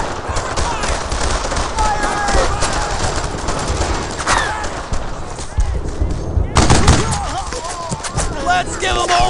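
Gunfire in the Brothers in Arms: Earned in Blood World War II game, a dense, sustained battle of rifle and machine-gun fire with loud bursts throughout and shouting voices in the mix.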